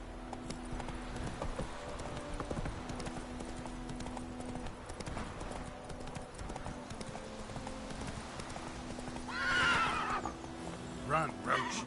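Roach, the horse from The Witcher 3, gallops with rapid rhythmic hoofbeats under game music, then lets out a loud whinny near the end. Speech is also present.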